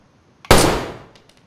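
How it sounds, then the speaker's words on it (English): A single loud unsilenced gunshot in DayZ, fired during a base raid in Chernogorsk: one sharp close crack with a ringing tail that fades over about half a second, then near silence. "Shot at him, but I missed."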